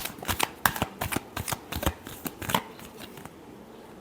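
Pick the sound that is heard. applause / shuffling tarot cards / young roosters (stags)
shuffling tarot cards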